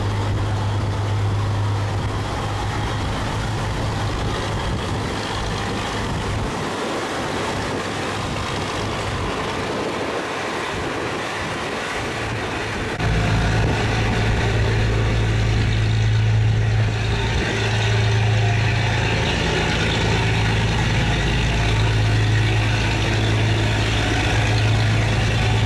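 A large cargo barge engine running at speed on a Vietnamese canal, a steady low droning hum that grows louder and heavier partway through and continues without talk.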